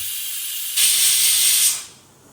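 A pressure cooker cooking mutton biryani whistles, a loud, sharp hiss of escaping steam for about a second before it quickly fades away.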